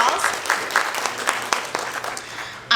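Audience at a symposium and celebration giving a speaker a round of applause, clapping in a steady crowd patter with a few sharper individual claps, ending with a brief voice.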